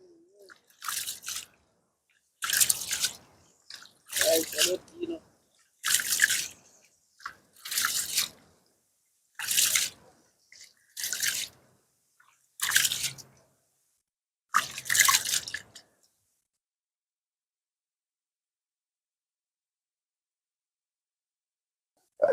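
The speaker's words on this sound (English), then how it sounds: "Get some water and wash your rice now." Rice is washed by hand in water during farm cooking in Jamaica. Close, rhythmic bursts of sloshing and swishing repeat about eight times, then the sound stops into silence.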